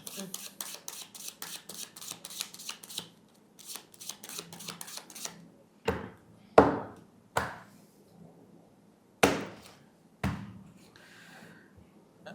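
A mentalist shuffles a deck of 52 playing cards, starting with quick bursts of rapid riffling flutters and then a few separate crisp snaps and taps, close and fairly quiet.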